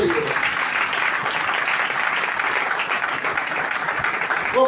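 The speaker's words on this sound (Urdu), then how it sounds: "زوردار تالیاں بجائیں اس کے لیے۔" A church congregation breaks into loud applause during a worship meeting, a sustained broad wash of many hands clapping, with brief voice or musical tones at the very start and end.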